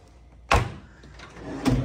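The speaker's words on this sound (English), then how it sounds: "And a little tiny mini fridge." Hotel room mini fridge door opened, a sharp clack followed by a quieter rattle and a second knock about a second later, close by.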